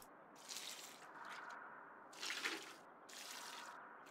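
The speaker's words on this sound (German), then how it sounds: "dann gieße ich da noch ein bisschen." Watering plants in the video game Among Trees, a soft hiss of sprinkling water in three or four separate bursts with brief pauses between, fairly quiet and alone.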